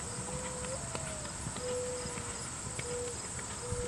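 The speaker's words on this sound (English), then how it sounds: "That's the canter we want right there for this amount of work." A horse canters during a riding lesson, its hooves clip-clopping in a steady, rolling rhythm at moderate distance over a faint background hum.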